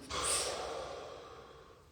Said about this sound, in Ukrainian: І видих.